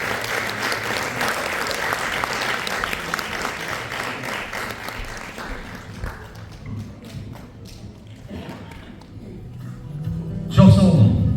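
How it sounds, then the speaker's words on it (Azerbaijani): Audience applause at a jubilee evening on stage, a dense sustained wash of clapping that fades away, with a brief thump and voices near the end. "Alqışlarınız."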